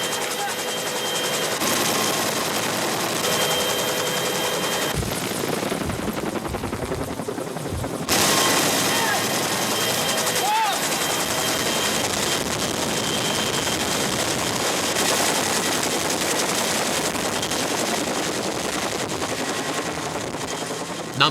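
A military combat helicopter's rotors and engine roar loudly and steadily over Seoul during rope rappel training, with bursts of gunfire-like crackle and voices underneath.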